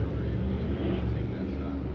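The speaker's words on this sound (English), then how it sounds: "Listen to the power of these race cars." SMART Modified race car engines at Tri-County in Granite Falls, North Carolina, drone in a steady, heavy roar, with a voice talking over the noise throughout.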